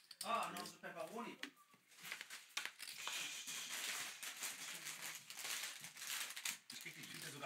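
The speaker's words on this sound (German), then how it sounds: "Ich krieg die Tüte sogar auf mittlerweile." Crinkly plastic snack bag of pepperoni being torn open and handled at a home poker game, giving close, irregular crackles and rustles, with a voice heard briefly at the start.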